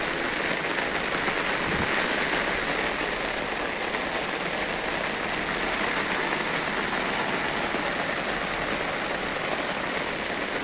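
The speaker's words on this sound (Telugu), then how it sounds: "ఈ వర్షం ఈరోజు ఆగదు." Heavy rain pours down over Hyderabad as heard from the top of an apartment building, a loud, dense, unbroken roar of water striking surfaces from start to finish.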